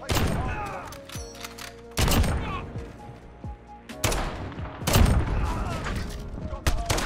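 Sniper rifle gunfire in a video game with glitched iron sights: several heavy, booming shots about every two seconds with echoing tails, mixed with game effects and a voice talking over them.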